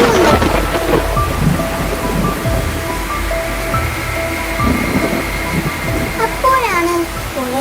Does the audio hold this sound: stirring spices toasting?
no